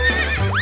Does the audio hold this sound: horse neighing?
yes